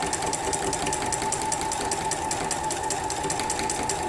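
A sewing machine stitching free-motion quilting on a block runs in a fast, steady mechanical patter, close and continuous, with no talking.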